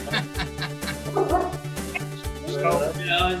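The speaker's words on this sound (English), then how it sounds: "keep yourself on mute because my dog's a bit loud today." A dog gives short, repeated bow-wow barks and yips in a steady rhythm, close and fairly loud, while several people talk over it.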